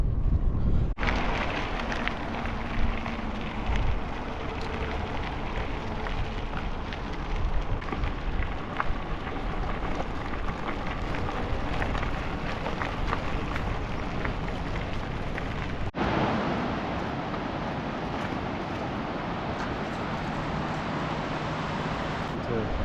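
Strong headwind roars across the microphone while bikepacking on a path, a loud continuous rushing broadband blast with gusty fluctuations lasting over twenty seconds.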